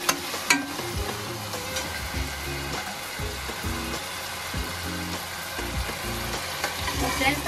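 Chopped tomatoes hit hot oil and fried onions in a pan for Amritsari chole, sizzling steadily with repeated stirring scrapes and clatters, close and fairly quiet.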